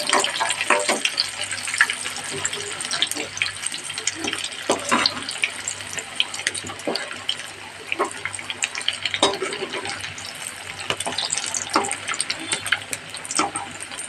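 Potato chops frying in oil over a low-to-medium gas flame, a dense, continuous crackling sizzle with scattered sharp pops, close and fairly loud throughout.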